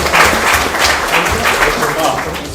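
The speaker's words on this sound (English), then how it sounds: "let's give a round of applause for Josh." A crowd at a hackathon lightning-talks event applauds steadily, a dense wash of clapping with voices talking underneath.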